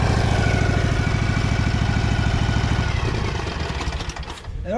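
Husqvarna 2346XLS hydrostatic lawn tractor running with the PTO engaged, a loud, close, steady rumbling engine chug that eases slightly toward the end.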